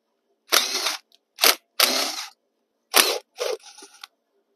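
Bolts on the recoil cover of a Suzuki quad being worked loose with an 8mm tool: six short, sharp mechanical bursts of ratcheting and clicking, close up, with brief pauses between them and no talk.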